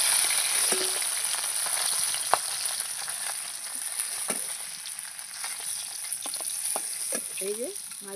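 Bata fish frying in hot oil: a constant, close crackling sizzle with occasional pops and light clinks of stirring, holding steady for several seconds with a faint high tone over it.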